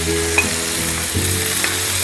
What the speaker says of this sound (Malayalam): നമ്മൾ തക്കാളി ഇട്ട് നന്നായിട്ടൊന്ന് ഇളക്കി കൊടുക്കുക.